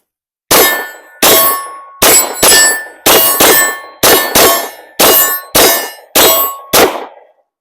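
Glock pistol fired at a shooting range, about eleven loud, sharp shots in a fairly even rhythm roughly half a second apart, each ringing with a metallic clang, with no talk.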